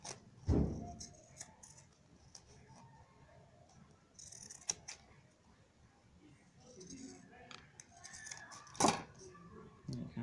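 Scissors cut a sandal upper pattern close to its edges, giving close, intermittent snips and clicks separated by quiet pauses.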